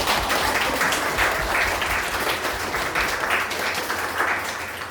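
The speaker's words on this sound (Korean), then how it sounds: "박수 한번 크게 감독님한테." A church congregation applauds a visiting bishop at a regional monthly worship service, a dense, continuous roar of clapping that stays loud and even from start to finish.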